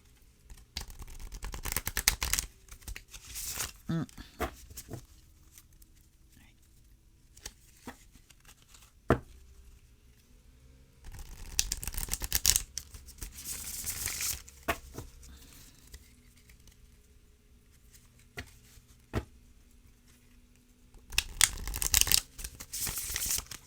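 Very thin tarot cards from a Secrets of the Tarot set are shuffled by hand in several close, crisp bursts of rapid riffling and pattering, separated by quieter pauses.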